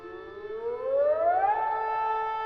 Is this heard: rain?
no